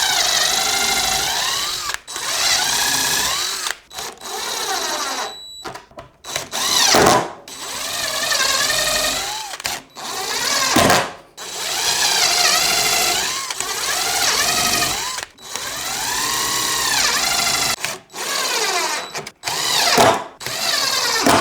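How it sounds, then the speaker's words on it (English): A power drill drives a screw into wood with repeated bursts of whirring, its pitch rising and falling as the trigger is squeezed and released, separated by short pauses, loud and close. "I'm gonna go ahead and sink a screw."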